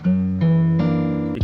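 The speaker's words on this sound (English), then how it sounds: "So I added some tape effect," Guitar run through a tape effect for a lofi beat: three sustained chords change in sequence, slightly clipped and EQ-coloured, with a quick slide at the end, loud and unaccompanied.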